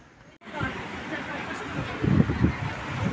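Gusty wind buffets the microphone with low, rumbling bursts, swelling strongest near the end; no one speaks.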